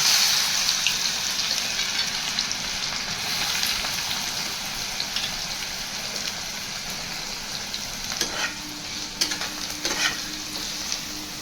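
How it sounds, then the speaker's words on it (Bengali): Chopped onions sizzling steadily in hot oil with fried cardamom and cumin, a loud continuous frying hiss with a few utensil clinks near the end. "এবার আমি কুচিয়ে রাখা পেঁয়াজগুলো দিয়ে দেব"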